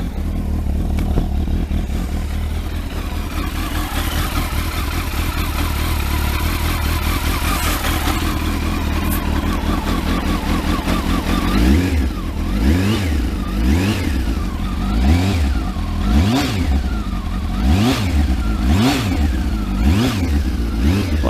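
Kawasaki ZX12R motorcycle engine idling steadily after a fresh clutch install, then revved in a series of rising and falling throttle blips, loud and close throughout.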